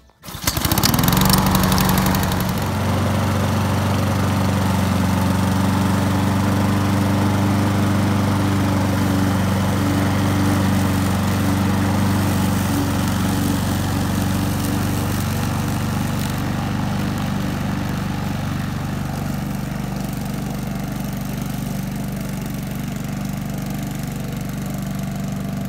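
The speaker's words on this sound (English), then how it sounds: "whenever I start the lawnmower, I'll turn on the self-propel and then clamp that on" A self-propelled walk-behind lawnmower engine starts abruptly and then runs steadily and loudly at a constant, even drone for the rest of the clip, close by and with no voices.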